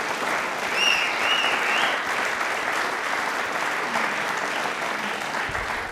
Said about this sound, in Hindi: दूरदर्शन की टीम के लिए वापस से तालियां एक बार जोरदार होनी चाहिए